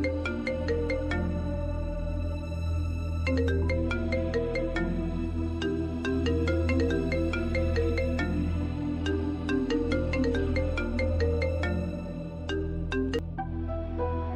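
A phone rings with an incoming call in a drama scene, a loud repeating electronic ringtone melody that plays continuously for the whole stretch with no talking.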